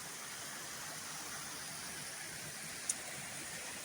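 Waterfall and running water in a pine forest in an Argyll national park, a steady, even rushing hiss that stays constant, with one brief faint click partway through and no talk.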